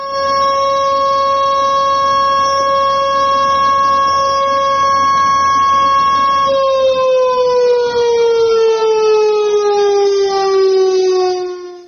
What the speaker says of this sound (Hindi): पाकिस्तान में भी सायरन लगा दिए गए हैं भारत के डर से